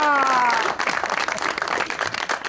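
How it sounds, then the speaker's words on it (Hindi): A studio audience on a television show breaks into lively clapping to welcome a guest. A voice trails off at the start, and the uneven applause keeps going strong until the end. "प्लीज आपकी भरपूर तालियों में परवेज कलीम"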